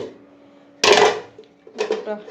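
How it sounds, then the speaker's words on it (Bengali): Ceramic plates and bowls clatter as they are gathered from a dining table after a home meal, two bursts of handling close by with a short pause between. "থালা বাটি"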